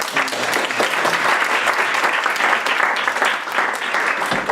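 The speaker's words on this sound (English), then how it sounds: "First, let's give Emile another round of applause." Audience applause fills the room after a talk in an online education session, a dense, steady patter of clapping that holds at an even level throughout with no voices over it.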